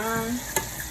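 Butter and brown sugar for barbecue sauce stirred in a hot pan, a steady sizzle with a single spoon scrape in the middle of the brief moment.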